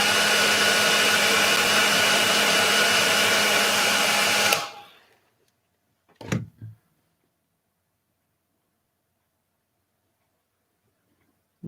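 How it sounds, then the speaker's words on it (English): Hair dryer blowing for about four seconds at close range, a loud steady whirring rush that cuts off abruptly, followed by a couple of faint knocks in near silence. "I'm just going to give it a light dry with a hairdryer just quickly."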